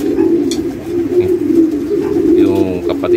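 Racing pigeons cooing nearby in a low, steady murmur, with a brief brighter bird call near the end.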